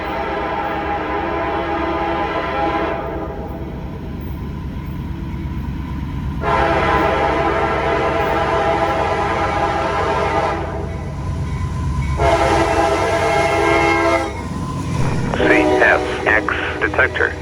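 A CSX ammonia freight train rolls past on the main line, a steady rumble of cars underneath while the locomotive horn blares loudly in several long blasts, ending with a squealing, warbling tone near the close.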